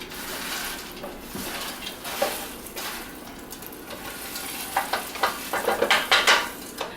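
Turkey stuffing dressing being mixed in a bowl, a continuous wet squishing and stirring that grows into quicker scraping strokes toward the end, close and without talk.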